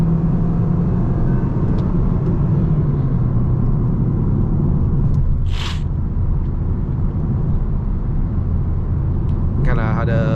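A 2016 Kia Optima K5 with a 2.0L engine revs up under kickdown on a test drive, a steady loud engine and road rumble filling the cabin, with someone talking over it.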